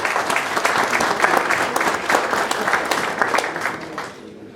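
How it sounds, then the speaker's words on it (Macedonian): An audience at a municipal sports awards ceremony applauds loudly and steadily, a dense wash of many hands clapping that fades out at the end. "Еден аплауз за сите пред"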